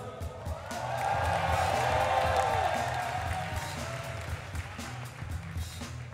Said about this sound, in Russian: Зрители аплодируют.